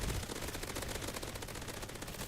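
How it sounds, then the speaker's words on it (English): Rapid automatic gunfire from a zombie survival shooter game, ZRS Zombie Rush Survival, as waves of zombies are gunned down; a dense, steady rattle of shots fills the whole stretch at a constant moderate level, with no talking. "I can start turning around and shooting the ones behind me"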